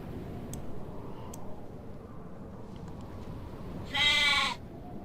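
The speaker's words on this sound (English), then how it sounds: "I'm just gonna go around until I don't hear any more sheep." Sheep bleating in the Nancy Drew game The Haunting of Castle Malloy: one clear, loud bleat near the end, preceded by a couple of faint distant bleats over a steady outdoor ambience.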